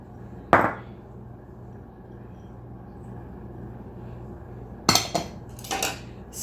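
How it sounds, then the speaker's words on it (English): A spoon stirs cheddar cheese into broccoli soup in a pot, giving a sharp metal clink near the start and a short cluster of scraping clatter near the end, with low kitchen hum between. "Stir that in until it gets nice and melted."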